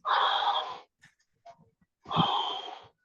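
Heavy, wheezing breaths from someone exercising hard in a fitness test, two long loud rasping exhalations close to the mic with faint sniffs and small noises between them.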